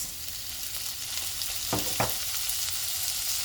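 Green peas tipped into hot oil for cabbage sabji, a steady close sizzle of frying with a couple of brief louder bursts as they hit the pan, no talking.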